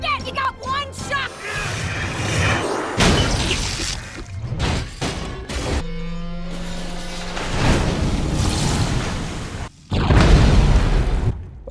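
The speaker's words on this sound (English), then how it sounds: "I don't know why it just exploded randomly" A video game explosion bursts with heavy booms and crashing debris among dense action effects, loud and close, repeated across the stretch.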